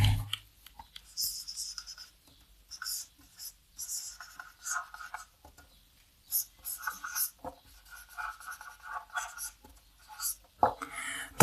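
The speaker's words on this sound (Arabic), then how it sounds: "بس نكتب بقلم تاني" A pen writing on paper in short scratchy bursts with gaps between strokes, close and quiet, with faint soft voice sounds now and then.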